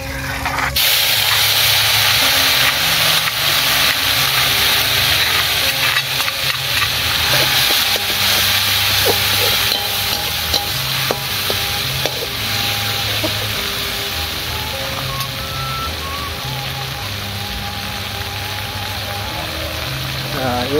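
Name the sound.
frying and stirring sambal balado chili paste in a pan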